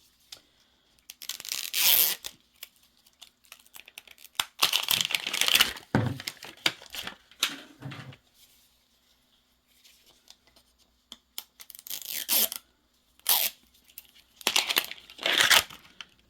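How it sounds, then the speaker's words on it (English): A Miniverse package is ripped open in several short, loud bursts of tearing and crinkling plastic or paper, close up and separated by quiet pauses. "I'm gonna rip this sucker open"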